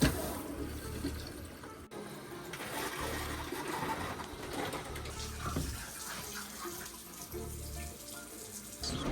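Water pours steadily from a faucet into a tub, a continuous splashing rush with small shifts in flow.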